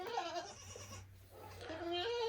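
Goats on a farm bleat near the microphone, the mother goat fretting over her newborn kid after a difficult birth; two wavering bleats sound, one at the start and another near the end, separated by a brief lull.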